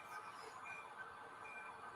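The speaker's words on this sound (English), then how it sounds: "there's a train that's on the helix right now. It's making its way to the top of the helix" A model train climbs a helix on a layout with a steady, faint rolling rumble and light squealing wheel tones.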